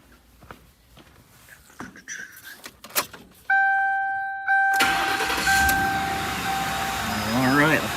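A Ford Crown Victoria is started after some shuffling and key jangles, with a chime sounding before the engine cranks and catches into a steady idle, heard up close.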